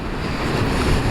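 Sea waves wash against a coastline in Tamil Nadu near Rameshwaram, a steady, broad rush of surf mixed with wind noise, loud and continuous.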